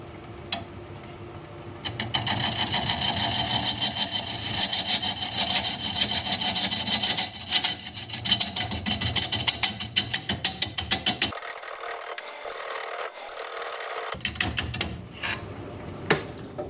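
A 5/8 inch bowl gouge cuts hard wood spinning on a lathe at 390 RPM, giving a loud, steady scraping roar with rapid rhythmic chatter. The cutting stops briefly near the end, then resumes more softly.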